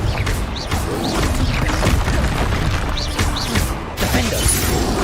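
Confringo fire-spell blasts in the Hogwarts Legacy game, several sharp crashing bursts with whooshing impacts scattered over a constant game-combat din, without speech.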